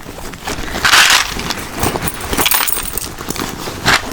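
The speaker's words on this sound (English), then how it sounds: "I think I will put my keys here." Keys jangle close up while being set down and rummaged beside a church bag, bright metallic clinks in several quick bursts, loudest near the start and again at the end.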